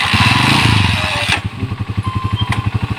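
Motorcycle engine running loud and close, a steady rumble that settles into a rhythmic, pulsing idle after a sharp clack partway through.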